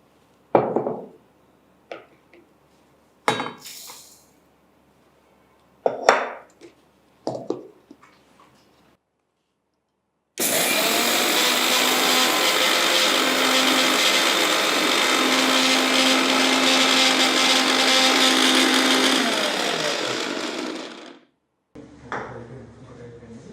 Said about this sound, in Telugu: దీనికి కావాల్సింది మనకు ఒక చిన్న మిక్సీలో వేసి మనం దీన్ని పౌడర్ చేసుకుందాం.